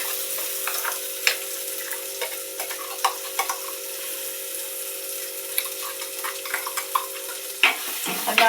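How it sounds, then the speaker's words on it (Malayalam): Ground masala paste frying and stirred in a pan, a steady close sizzle broken by sharp spoon scrapes and clicks against the metal, with no talking. "നല്ലോണം ഒന്ന് ഇളക്കി കൊടുക്കാം അല്ലേ"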